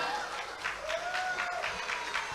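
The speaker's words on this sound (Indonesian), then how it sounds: "Luar biasa, tepuk tangan." Audience applause after a talk about an ancient village in Surabaya: soft, fairly distant clapping from a modest crowd over about two seconds, with a faint tone wavering through it.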